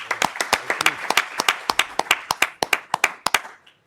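Scattered hand clapping from a small conference audience at a Boston Startup Week session. Sharp, distinct individual claps sound close and loud in an uneven rhythm, thinning out toward the end.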